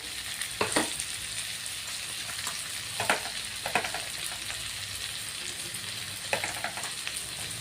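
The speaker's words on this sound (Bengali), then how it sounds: "অল্প ভেজে নিলাম আলু বটবটি এখন কাঁচা লঙ্কা বাটা দিয়ে দিচ্ছি" Potatoes and yardlong beans fry with green chili paste in a pan, a steady close sizzle broken by a few sharp stirring scrapes, with no one talking.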